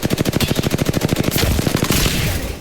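Sustained automatic gunfire from an attacking enemy squad in the battle royale game Apex Legends, a rapid, steady stream of loud shots that runs the whole time, growing denser with overlapping fire near the end.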